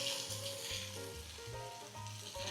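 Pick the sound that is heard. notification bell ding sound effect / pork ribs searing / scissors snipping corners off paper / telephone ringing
pork ribs searing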